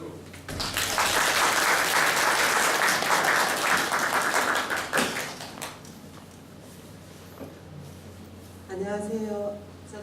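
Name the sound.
audience applause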